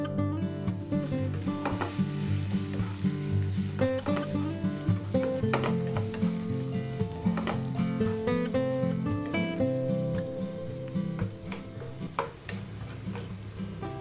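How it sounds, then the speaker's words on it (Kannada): Sliced onions fry in ghee and cooking oil with a steady, close sizzle that carries through the whole stretch, broken by light stirring clicks and with a tonal background underneath. "ಇದನ್ನು ಇವಾಗ ಚೆನ್ನಾಗಿ ಗೋಲ್ಡನ್ ಬ್ರೌನ್ ಕಲರ್ ಬರೋವರೆಗೂ ಫ್ರೈ ಮಾಡ್ಕೋಬೇಕು."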